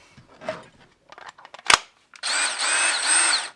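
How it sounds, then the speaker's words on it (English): A few handling clicks and a sharp knock, then a DEWALT 20V MAX cordless drill on speed 2 whirs steadily at a high pitch for about a second and a half, close by. "That's speed 2 on drill."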